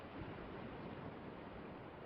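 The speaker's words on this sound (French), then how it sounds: "Et alors que s'élève le bruit des vagues" Ocean waves wash onto a beach in a soft continuous rush, faint and distant, with no other sounds.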